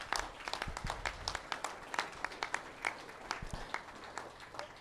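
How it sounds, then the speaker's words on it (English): Audience at a cattle company event in Waynesville, Ohio, applauding with sparse, fairly distant individual claps that thin out and fade toward the end. "let's give her a round of applause"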